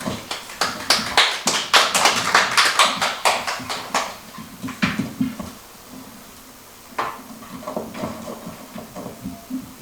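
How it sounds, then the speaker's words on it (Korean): A small audience at a Bucheon culture and arts forum claps in a quick, uneven burst that fades after a few seconds, then scattered claps return faintly near the end. "박수로 청해 듣겠습니다"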